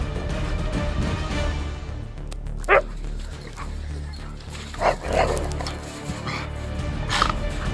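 Huskies fighting at a camp on a Norway camper road trip, a tangle of yipping barks and whimpers close by, with several sharp yelps standing out over continuous growly dog noise.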